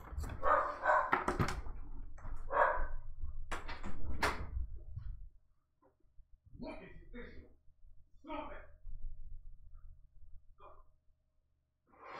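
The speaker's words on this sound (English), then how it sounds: "sorry about these dogs barking" Dogs bark in short repeated bursts, loud at first and then sparser and a little farther off, with a person talking over them.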